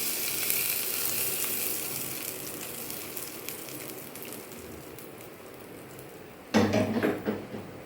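Hot oil tempering poured over turkey berry chutney, giving a steady soft sizzle throughout and a louder burst of crackling near the end, with no talk.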